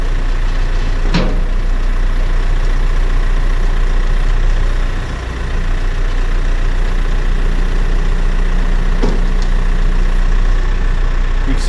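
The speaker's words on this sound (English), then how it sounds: "Just gonna chain that bush hog to the bucket and lift it up and out of there." A heavy diesel tractor engine runs steadily up close while its bucket lifts a chained bush hog, a deep continuous rumble with a brief dip midway and two sharp clanks of metal standing out above it.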